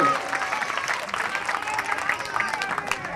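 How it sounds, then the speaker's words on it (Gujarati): Applause from an audience at a prize-distribution and donation ceremony during a temple consecration yajna, heard as a dense, steady wash of clapping with crowd murmur throughout. "તાળીઓ તો પાડો"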